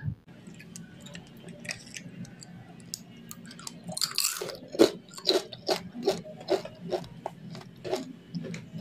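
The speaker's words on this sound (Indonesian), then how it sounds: "Untuk rasa peyeknya walaupun tanpa santan tetap enak banget, gurih, renyah" Repeated crisp crunching bites into peanut crackers made with glutinous rice flour, a sharp crack followed by steady rhythmic chewing crunches, close and loud against a quiet room.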